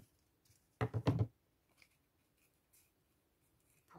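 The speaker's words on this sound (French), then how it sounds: "Donc, on va couper le coin," Scissors cut the corner of a paper card in a quick cluster of three or four close, crisp snips, followed by quiet handling noises.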